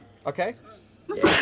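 A person sneezes once, loud and close, just after two brief spoken words, in the middle of an online tabletop role-playing session.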